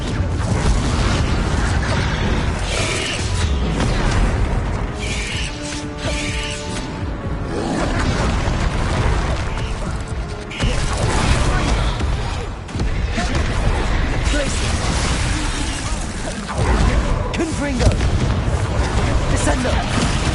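Confringo and Descendo spell blasts in Hogwarts Legacy burst and slam repeatedly in a loud, dense, chaotic sequence, with a voice speaking intermittently over the booming impacts.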